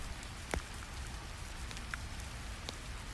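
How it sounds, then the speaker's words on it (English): Steady rain falls on stone courtyards at a remote Tibetan mountain monastery, a soft continuous hiss with occasional sharper close drop impacts; no one speaks. "Rain begins falling on the courtyards. Each drop strikes stone with tiny sounds."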